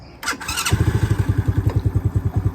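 Tao Tao 110cc engine cranked with the choke up, a brief starter whir then a close, loud chugging idle with a fast regular beat, no voices over it.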